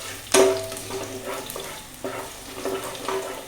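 Mustard seeds fry in a pan with a crackling sizzle, sharp pops and stirring scrapes up close, rising and falling in short bursts.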